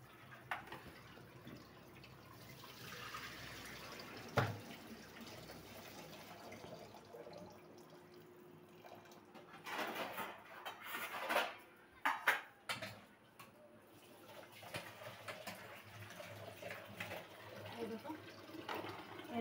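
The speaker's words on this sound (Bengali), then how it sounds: "ধুয়ে নিই ভালো করে সব।" Running tap water flows into a kitchen sink while things are washed, a faint steady stream with intermittent splashes and clatters, louder bursts in the middle.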